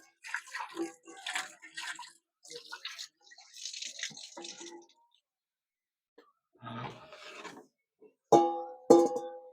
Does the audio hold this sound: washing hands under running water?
yes